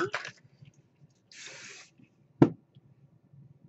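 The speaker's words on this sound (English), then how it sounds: "And then I give it a little bit of hairspray." Hairspray hisses onto a cheap wig in one short burst, quiet and close, followed by a sharp tap and faint handling rustles in an otherwise silent room.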